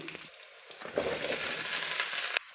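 Onions and a vegetable curry (palya) fry in a pan with a steady, close sizzle and occasional stirring, then the sizzle cuts off abruptly near the end.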